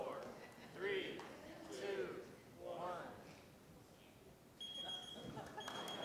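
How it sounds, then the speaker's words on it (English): An electronic timer buzzer at a live science theater event starts a steady, high, sustained beep in the last second and a half, following a stretch of people talking. "Should we hear the buzzer just to hear it?"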